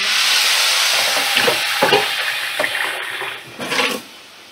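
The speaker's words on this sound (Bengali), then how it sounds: "দু তিন মিনিট এইভাবে নাড়াচাড়া করে ভাজা ভাজা হয়ে গেলে" Khichuri ingredients stirred and fried in a pan: steady broadband sizzle with several scraping stir strokes, close and fairly loud, no talking.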